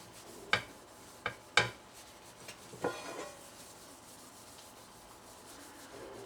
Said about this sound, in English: Just wipe a little mineral oil on.